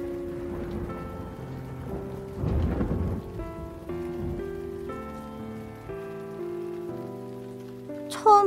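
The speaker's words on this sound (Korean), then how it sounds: "7일이 지나자 정말로 하나님께서 약속하신 비가 오기 시작했어요." Steady rain and low thunder rumbles during a storm, set under gentle tonal background music, with a heavier swell of rumbling partway through and no voices.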